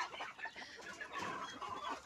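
Heritage chickens of mixed breeds, including Black Australorp, Light Sussex, Barred Plymouth Rock and Rhode Island Red, cluck and chatter together in a continuous, faint, overlapping flock murmur.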